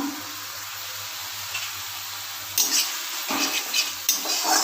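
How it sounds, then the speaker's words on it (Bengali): Pointed gourd peels frying in a pan, a low steady sizzle that grows louder with bursts of stirring scrapes toward the end; no talking. "দিয়ে আবার ভালো করে নাড়তে থাকবো।"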